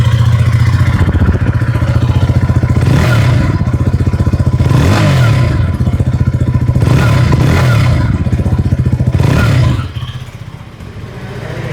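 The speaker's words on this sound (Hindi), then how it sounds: "एक बार आपको जो है एग्जॉस्ट के साउंड सुनाते हैं। तो एक बार इसको ऑन कर लेते हैं।" A KTM Duke 160 motorcycle idles close by with a steady, throbbing exhaust note, rising in several short throttle blips before settling back to a lower idle near the end; no one speaks.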